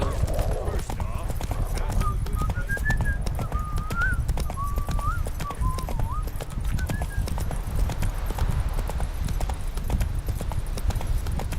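Hooves of Roach, Geralt's horse in The Witcher video game, clip-clop steadily at a walk, with a brief whinny, under a low rumbling game soundtrack. Someone speaks near the start.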